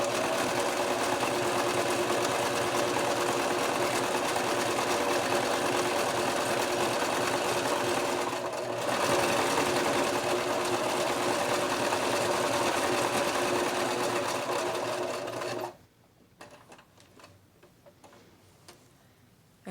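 A sewing machine stitches an appliqué onto fabric in one long, steady, rapid ticking run, briefly easing midway, then stopping near the end and leaving faint handling noise.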